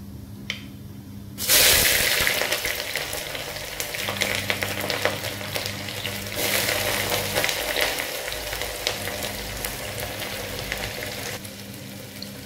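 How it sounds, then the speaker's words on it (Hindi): Chopped onions fry and sizzle steadily in a pan with hot oil while being stirred until golden brown, a loud continuous crackle that starts suddenly and runs throughout with no talking. "प्याज को हम फ्राई करके गोल्डन ब्राउन कर लेंगे।"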